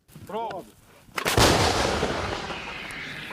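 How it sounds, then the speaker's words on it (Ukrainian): Artillery fires at enemy trenches in a combat zone: one heavy, sharp boom followed by a long rolling rumble that slowly fades, with a brief voice fragment just before. "Артилеристи відпрацьовують по позиціям росіян."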